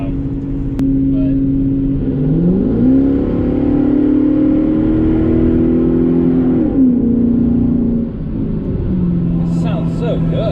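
Infiniti car engine idling steadily, then revving up twice in smooth rising and falling swells, close and continuous throughout.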